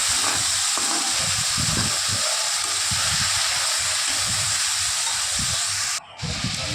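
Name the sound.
spice paste with tomato and green chilli frying in pan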